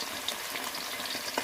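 Potato pieces fry in a pan with a close, steady crackling sizzle, bright and continuous, with small pops scattered through the brief moment.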